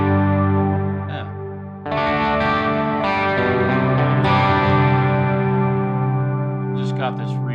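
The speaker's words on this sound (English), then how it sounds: "Just got this reverb kind of turned on." Harmonic, tonal sound played back through a reverb effect in a Reaper session, with a sustained tail that briefly thins, then returns dense and steady with bright smeared upper overtones, loud and close throughout.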